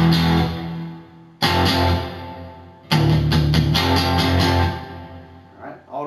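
Electric guitar plays a barred riff from a song, loud and close, in three strummed phrases separated by brief stops, the last ringing out and fading.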